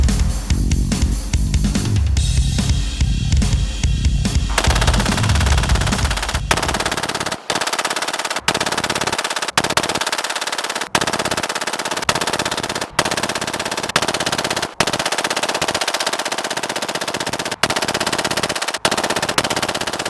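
Rapid sustained gunfire from a 500-round burn-down test, long loud strings of shots broken by brief pauses between bursts, close and alone without talk.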